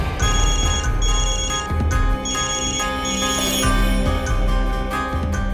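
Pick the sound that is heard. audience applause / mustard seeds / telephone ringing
telephone ringing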